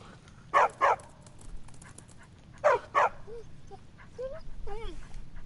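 A small dog in the game Skyrim lets out two pairs of sharp barks a couple of seconds apart, followed by soft whines and yelps, close-up over a faint room background.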